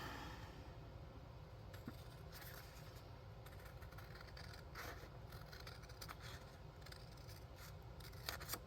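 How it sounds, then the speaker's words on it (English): Scissors cutting down the crease of a folded sheet of paper for a handmade journal, a steady run of soft close snips and scraping under a low background hum, with no talking. "we're going to cut that right down the middle"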